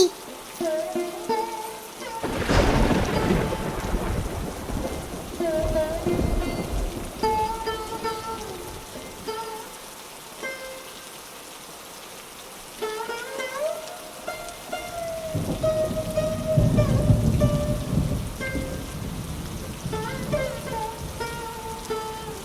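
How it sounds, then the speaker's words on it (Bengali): Cartoon rain falls steadily throughout, with a low thunder rumble near the start, while a musical score and animated voices carry on over it. "ও টুনটুনি, টুনটুনি, কোথায় যাচ্ছ তুমি এত বৃষ্টির মধ্যে?"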